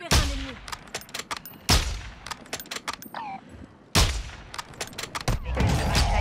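Sharp gunshots crack out in bursts during a Warzone game match, with loud single reports and rapid volleys separated by short pauses, some booming and close.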